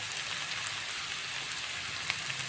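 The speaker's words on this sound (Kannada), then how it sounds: "ಇದು ಎಣ್ಣೆಲ್ಲೇ ಫ್ರೈ ಆಗಬೇಕು ಈ ತರಕಾರಿಗಳೆಲ್ಲ" Vegetables frying in oil in a pan give a steady, soft, even sizzle with fine crackling throughout, faint and alone without voices.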